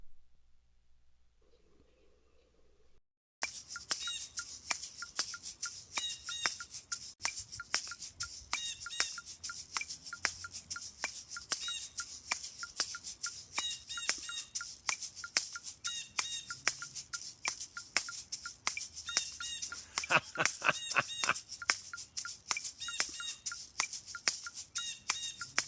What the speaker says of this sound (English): a bird was jamming with me